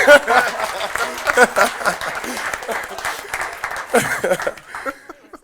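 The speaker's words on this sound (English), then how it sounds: "Azriel, ain't nobody gonna clap for Taryn?" A crowd at a school board meeting claps in a steady burst of applause with some laughter mixed in, voices chattering underneath, fading out near the end.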